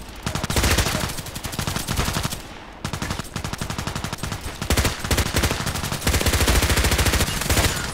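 Rapid, loud gunfire from the sniper video game ADXsniper, bursts of sharp cracks packed tightly together with a brief lull near the three-second mark, then continuing dense and steady to the end.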